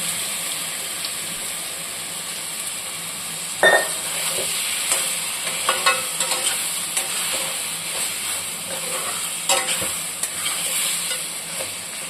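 Boiled chicken tossed into a pan of frying onions, a continuous bright sizzle with intermittent scrapes and knocks of a spoon stirring, one sharper clank near the start.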